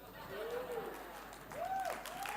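An audience at a stem-cell supplement training seminar applauds in a steady, even patter for a couple of seconds, with a voice audible over the clapping.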